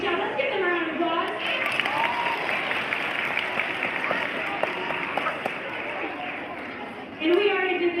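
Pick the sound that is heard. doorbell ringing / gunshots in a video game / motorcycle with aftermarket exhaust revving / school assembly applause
school assembly applause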